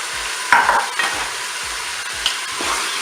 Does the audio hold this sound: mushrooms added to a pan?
yes